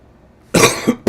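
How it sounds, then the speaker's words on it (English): A single harsh cough bursts out after a quiet stretch, followed by a short second cough, close and loud, from a person in a live RV question-and-answer session about plumbing fittings. "Told you I had still a bit of a cough."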